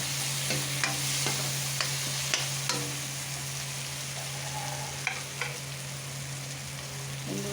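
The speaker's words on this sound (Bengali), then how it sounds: "দেখুন চিংড়ি মাছ ঢেলে রেখে দিয়েছি, এই ঢেলে দিলাম, দিয়ে একটু নাড়াচাড়া করে নেবো।" Prawns are stirred in a pan with tomato, chili and onion, giving a steady sizzle under repeated scraping strokes and a low constant hum.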